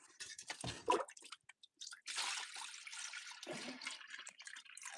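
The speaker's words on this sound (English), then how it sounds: "Okay, water. Let me just pour it out." Water poured out of a container and dumped, splashing and gurgling loudly in bursts near the start and again from midway on, fairly close with no talk.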